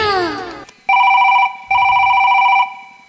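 A mobile phone rings loudly and close by, sounding two long bursts of a steady two-tone electronic ring separated by a short gap, after a brief opening of other sound.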